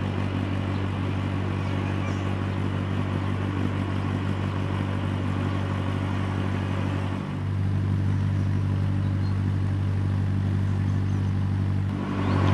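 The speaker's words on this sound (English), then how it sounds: "We can hear the engine." A canal boat's engine runs at a steady low idle throughout, a constant close throb with a brief dip partway through and no talking over it.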